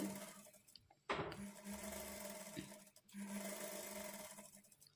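Domestic sewing machine stitching a double seam on a front-slit designer kurti, running in steady whirring bursts with a brief pause and a clunk near the start and another short stop midway.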